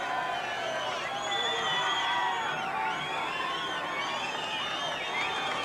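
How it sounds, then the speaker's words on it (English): A huge crowd gathered on Pit Straight at the 1984 James Hardie 1000 motor race podium presentation, cheering and whooping in a steady, dense roar that holds throughout, with scattered shouts rising above it. "acknowledging the adulation of the huge crowd gathered down here on Pitt Straight"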